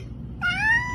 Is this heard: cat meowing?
yes